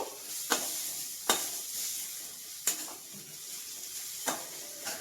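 Chopped onions sizzle in oil in a pan, with a spatula scraping and clanking against the metal four or five times at regular intervals over a low, continuous frying hiss.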